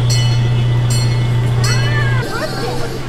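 The Howl-A-Dog Express, a small theme park train ride at Holiday World in Santa Claus, Indiana, hums and rumbles steadily, with a low drone that cuts out partway through and squealing wheel tones after it.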